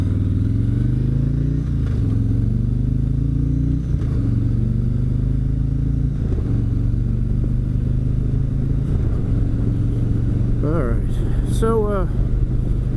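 A motorcycle engine runs loud and steady close up while riding, with gear changes every couple of seconds. Wind rumble sits under it and a voice is heard briefly near the end.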